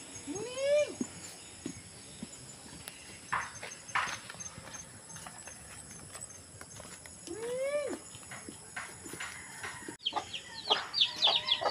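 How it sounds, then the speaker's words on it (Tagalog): Chickens being fed at a rural hut, with a couple of drawn-out clucking calls rising over soft scratching and rustling, spaced several seconds apart and moderately close. "Yan, magpapatuka po ng manok."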